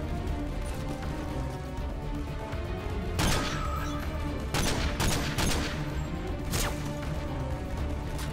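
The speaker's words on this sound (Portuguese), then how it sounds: "Eu tô tomando tiro não sei da onde" Gunfire in the video game Call of Duty Modern Warfare 2: several sharp, loud bursts in quick succession over a steady low game soundtrack, with a tight cluster of shots near the middle.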